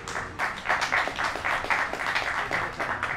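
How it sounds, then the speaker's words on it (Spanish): Audience applause at an evening science talk on arachnids, a dense steady wash of many hands clapping that swells after a brief start and holds at full strength throughout. "un aplauso para vos"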